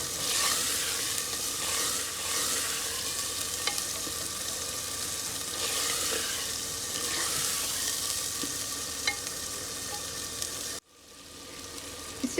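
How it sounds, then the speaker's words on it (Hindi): Spice masala frying in a pan for black lentil maash dal, a steady loud sizzle with occasional stirring scrapes and clinks, cutting off abruptly near the end. "अब हम इसे भूनते हैं, अच्छी तरह मसाला भून जाए तो फिर इसमें दाल डालेंगे।"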